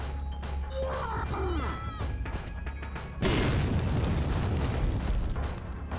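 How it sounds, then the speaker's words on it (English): A hand grenade explodes in the Resident Evil 4 video game: a heavy, loud boom bursts in after a few seconds of game ambience and lingers as a broad rumbling roar. "Ooh, hand grenade."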